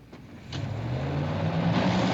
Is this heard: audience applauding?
no